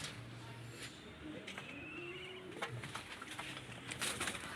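Soft pigeon coos sound over a quiet outdoor background, with faint voices and a few wing flutters.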